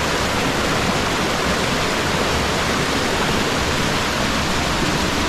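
A waterfall in a Hong Kong stream gorge pours with a loud, unbroken broadband roar of rushing water, close and steady throughout, with no voices.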